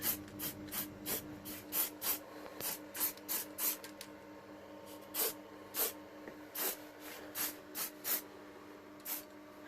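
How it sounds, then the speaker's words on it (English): A spray can of barbecue paint hisses in a string of short bursts, about a dozen quick close puffs with brief pauses between them, coating a Briggs and Stratton 10hp engine exhaust. "Now just shake that well, just barbecue paint, going to give it a little spray over."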